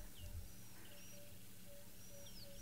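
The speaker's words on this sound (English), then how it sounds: "Mixed in with an emerald-spotted dove as well." An emerald-spotted dove calls faintly in the distance amid a soft chorus of other birds, with a low rumble of wind or vehicle underneath, heard on a live safari in the bush.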